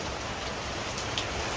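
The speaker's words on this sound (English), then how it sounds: "can you hear it? That there is the rain." Rain falling steadily outside, a dense, even hiss of drops hitting surfaces, constant and fairly loud with no voices.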